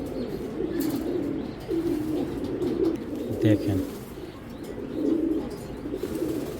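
Pigeons at a market selling Belgian, Dutch and German breeds, including a red checker hen, give soft, low, repeated coos in a close steady murmur, with someone talking over them at times.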